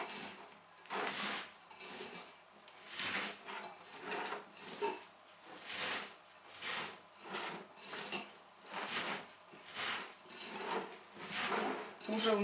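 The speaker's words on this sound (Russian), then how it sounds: "Вот так вот слегка надавливаем, она с солью хорошо смешивается" Shredded cabbage being squeezed and kneaded with salt by hand for sauerkraut, a rhythmic series of wet, crunchy rubbing pulses close up, about one every second, with some speech around it.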